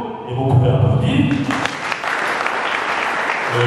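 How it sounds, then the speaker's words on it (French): An audience at a New Year's greetings ceremony breaks into applause, rising quickly and staying fairly loud, with a voice and low murmur underneath at the start. "vous pouvez applaudir"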